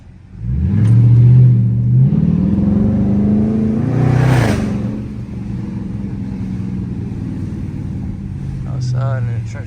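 Dodge Charger R/T engine revving hard with the hood removed, a loud rising roar near the mic that peaks and settles to a steady rumble, with talk over parts of it.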